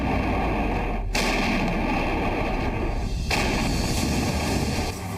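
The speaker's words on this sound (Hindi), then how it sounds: "27 किलोमीटर तक गोले दागने वाली बोफोर्स तोपों के बैरल इन पहाड़ियों की ओर गरजने शुरू हुए" Bofors howitzers fire shells toward mountain ridges, with two heavy booming blasts roughly two seconds apart amid a dense, continuous rumble of artillery and echo, loud and sustained.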